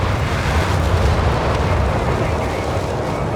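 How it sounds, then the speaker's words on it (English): Carpet bombing in the World War II strategy game Company of Heroes 3, a dense, continuous roll of heavy explosions and rumbling blasts, loud and sustained with no clear gaps. "Oh, carpet bombing."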